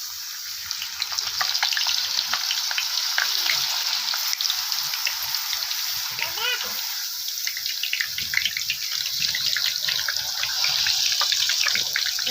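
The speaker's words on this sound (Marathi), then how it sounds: "तेल आपलं चांगलं गरम झालेलं आहे आता आपण एक एक करून ह्याच्यामध्ये हे चिप्स सोडायचे" Potato chips fry in hot oil, dropped in one by one, giving a steady close bubbling sizzle with crackling, dense and even for the whole length and with no talk.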